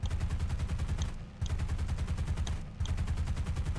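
Aircraft machine guns firing in War Thunder, rapid continuous bursts loud and close, with two brief pauses between long strings of fire.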